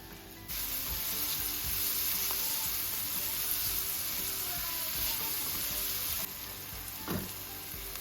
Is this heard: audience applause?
no